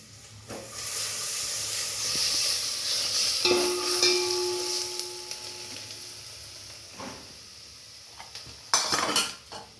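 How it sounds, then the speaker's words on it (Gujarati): A spoon stirring turmeric, gram flour and salt into food in a pot: metal scraping and clinks over a steady hiss of cooking, with a louder clatter near the end and no voices. "પછી આને હલાવી નાખશું"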